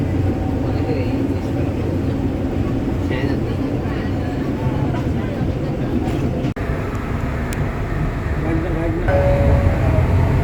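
A steady low rumble and rattle fills a moving train carriage in Malaysia, continuous and droning, with faint clanks and murmuring voices inside.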